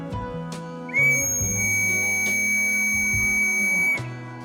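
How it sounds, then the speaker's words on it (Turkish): A small whistle gives one long, steady, shrill blast lasting about three seconds, loud and close, with faint handling noise before and after. "düdüğüm var. Sesini de göstereyim size."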